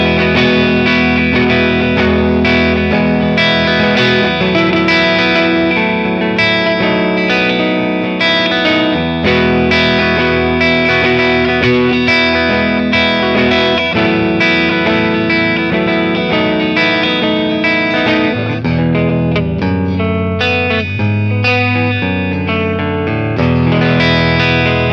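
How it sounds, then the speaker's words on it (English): Les Paul electric guitar played through a Matchless Laurel Canyon tube amp on its clean bright setting, loud and continuous chords and riffs with a sparkling top end and slight hair, no talking. "let's try the trusty Les Paul, but let's go to the clean bright setting"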